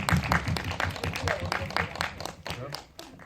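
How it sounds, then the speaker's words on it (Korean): Audience applause at an indie film talk event in a cinema, a crowd clapping steadily at close range for a few seconds with some voices mixed in. "박수 한번 더 할까요?"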